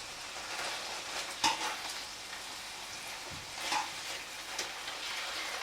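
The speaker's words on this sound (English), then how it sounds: "cook the liver until it's lightly brown on each side" Liver sizzles and fries in a pan for an Italian dish, a steady crackling hiss with a few sharper spits and a soft stir or scrape midway, close and moderately loud with no talking.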